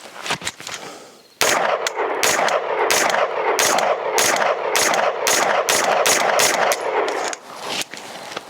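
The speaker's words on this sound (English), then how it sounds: "these are going to be my first rounds through the Quarter Circle 10 YKMF-5" 9mm 124-grain rounds fired from a Quarter Circle 10 YKMF-5 billet firearm, a rapid string of loud, close gunshots in a steady fast rhythm after a few opening shots.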